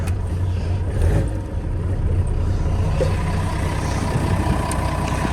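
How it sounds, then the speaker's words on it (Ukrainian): Engine of a truck hauling a 2004 LAG semi-trailer, running at low revs just after starting, a steady close rumble with no talk over it. "Машинка заводиться, трошки малі обороти, обороти підкручуються."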